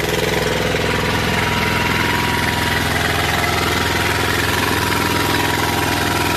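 Kubota two-cylinder diesel engine on a tracked wood chipper runs steadily, a close, loud, even mechanical drone with a low rhythmic thrum throughout and no talk.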